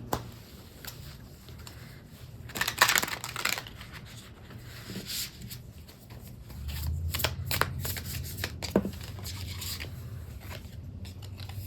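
Doodle Tarot cards being shuffled by hand, close and fairly quiet, with repeated riffling flutters and soft slides and taps continuing throughout.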